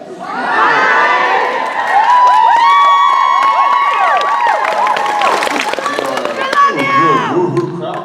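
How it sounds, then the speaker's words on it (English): A convention panel crowd cheers and whoops loudly, many high voices shrieking and hollering together in a dense, sustained roar that lasts the full stretch. "Good woo-hoo crowd this morning."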